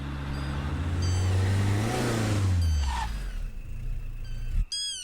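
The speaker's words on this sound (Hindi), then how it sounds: "गाड़ी साइड में लगा।" A car engine revs and runs loudly up close, its note rising then falling away as the vehicle slows and pulls off to the roadside in a monkey-inhabited forest area, ending with a sudden cutoff and a brief high squeal.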